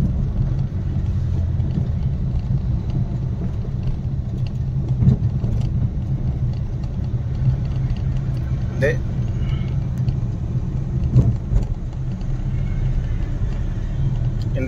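A car engine rumbles steadily from inside the vehicle during a driving lesson, a low continuous hum with occasional small knocks, while people talk over it throughout.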